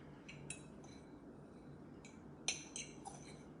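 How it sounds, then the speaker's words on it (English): Utensil mixing ingredients with ham in a dish for baked ranch pork chops, with faint light clinks and scrapes against the dish in small clusters over a quiet background, no talk. "I'm gonna mix this up a little bit"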